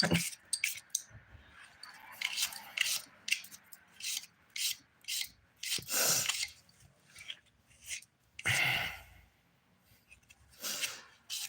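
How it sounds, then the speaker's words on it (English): Dip powder nails being filed by hand, a dry rasping rub that comes in repeated short strokes and bursts, with quiet gaps between them. "All right, so I'm back to filing."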